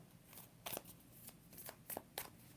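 Shuffling an Alice in Wonderland tarot deck, with a few soft, crisp card slaps and riffles close by at uneven intervals in a quiet room.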